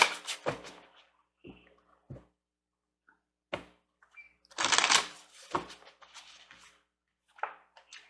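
Tarot or oracle cards shuffled and handled during a reading, with brisk riffling and snapping bursts, a longer shuffle in the middle and scattered taps and card flicks between quiet gaps, close and clear.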